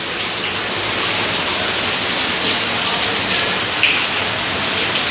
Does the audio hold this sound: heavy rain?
yes